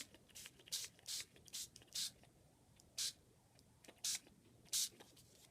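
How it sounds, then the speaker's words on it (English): Short hissing bursts of glimmer spray from an aerosol onto a clear bag, about nine quick puffs spaced irregularly, close but soft. "Okay, so let's spray this one."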